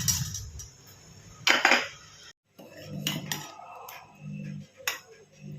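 Boiled aval rice-flake balls dropped into a pot of milk, with soft clinks and scrapes of a metal spoon against the vessel, a couple of louder clatters and a quiet gap in between.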